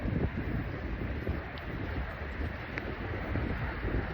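Strong coastal wind of about 18 knots blows at a bass-fishing spot, a steady broadband roar buffeting the microphone with no letup.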